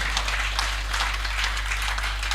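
An audience at a corporate gathering applauds, a dense, steady wash of clapping heard at moderate volume over a low, constant hum.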